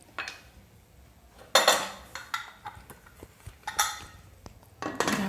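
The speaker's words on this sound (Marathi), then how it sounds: "कुकरला झाकण लावायचं आणि 1 शिटी घ्यायची आपल्याला ह्याची." A pressure cooker lid is set in place in a home kitchen while a traditional Bhogi vegetable dish cooks. A few sharp, close metallic clanks and clinks come in separate bursts, with no talking.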